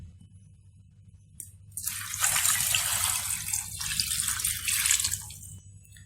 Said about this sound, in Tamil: அது முழுகிற அளவுக்கு தண்ணி நம்ம இப்போ ஆட் பண்ணிடலாம்